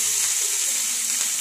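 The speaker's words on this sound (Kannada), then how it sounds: "ಇವಾಗ ಈರುಳ್ಳಿ ಸೊಪ್ಪನ್ನ ಕಟ್ ಮಾಡ್ಕೊಂಡಿರೋದನ್ನ ಡೈರೆಕ್ಟಾಗಿ ಹಾಕ್ತಾಳೆ ಅದ್ರಾಗೆ ಫ್ರೈ ಮಾಡೋದಕ್ಕೆ" Chopped spring onion greens fry in hot oil, giving a steady, close hiss and sizzle with no pauses.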